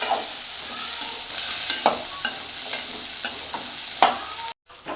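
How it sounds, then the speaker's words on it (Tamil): Onion, garlic, ginger and fennel seeds sauté in a little oil, a continuous sizzle with scattered spoon taps and scrapes from stirring, ending in a brief sudden silence. "வெங்காயம், பூண்டு, இஞ்சி, அப்புறம் சோம்பு இதெல்லாமே நம்ம போட்டு கொஞ்சமாக எண்ணெயை விட்டு நல்லா வணக்கிட்டே"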